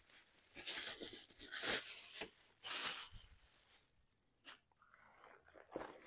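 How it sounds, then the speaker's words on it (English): Close, crinkly tearing of the plastic packaging of a motorcycle passenger seat cushion in several bursts, followed by quieter rustling and a brief sharp rip. "We'll just tear it open."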